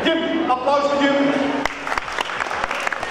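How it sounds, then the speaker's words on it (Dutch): Applause for the first-place winner at a Lego day event breaks out midway after a speaker's voice, a burst of clapping from a small crowd that continues to the end. "Applaus voor Jim"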